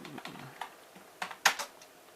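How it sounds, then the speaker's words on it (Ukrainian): A computer keyboard is typed on in short, irregular bursts of clicking keys at close range, with one sharper, louder keystroke partway through. There is no talk. "я зараз з клавіатури все це роблю"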